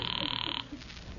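An old-fashioned telephone bell ringing in a radio comedy, one loud rapid trill lasting about half a second before cutting off into quiet room tone.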